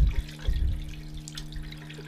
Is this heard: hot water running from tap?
yes